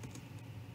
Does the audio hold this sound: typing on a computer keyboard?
yes